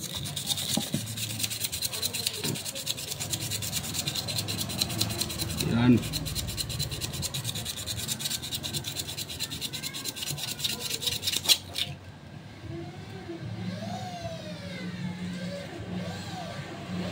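Repeated scratchy rasping of sandpaper rubbing a surface, steady strokes up close, with someone talking intermittently and an engine revving in the background.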